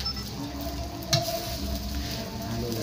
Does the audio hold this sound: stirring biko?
yes